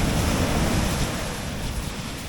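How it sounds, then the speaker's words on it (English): Sea waves wash onto a rocky beach in West Cork, Ireland, a loud continuous surging roar with wind buffeting the microphone. "once you're very aware of the sea conditions and of the waves"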